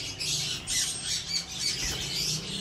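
A male yellow ringneck parakeet lets out harsh, repeated squawks, loud and near, in a rapid, continuous burst with no talk.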